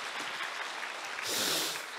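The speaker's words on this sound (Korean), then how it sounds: "박수." An audience at a national church elders' retreat in a hall claps for about two seconds, a dense burst that swells briefly near the end.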